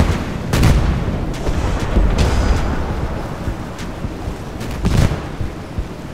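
Warships trade heavy naval gunfire in the mobile combat game Force of Warships: Battleship, with booming cannon blasts and rumbling explosions repeating over a dense, continuous battle din.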